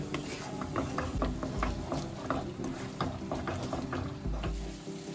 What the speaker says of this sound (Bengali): এবার আমি মশলাটাকে ভালো করে মিডিয়াম ফ্লেমে কষাবো